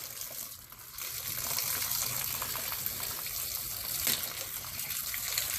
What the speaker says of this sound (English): So let's rinse these down here for a minute.